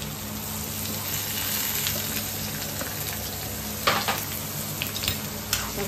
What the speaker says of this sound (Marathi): कढीपत्ता टाकलेला आहे मम्मीने तेलामध्ये.